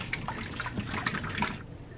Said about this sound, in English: I'm going ahead and dumping the water out of the chicken.